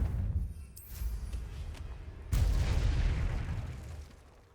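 Fiery Confringo spell explosions in the video game Hogwarts Legacy: a deep boom with a rumbling tail, then a second louder blast that slowly fades, heavy and close.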